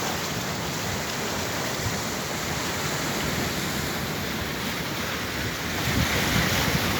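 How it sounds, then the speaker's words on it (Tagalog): Big ocean waves breaking on a Pacific shore, a dense, continuous roar of surf with hiss and rumble throughout, swelling slightly louder near the end, with no voices. "Abang-abang lang na malalaking alon."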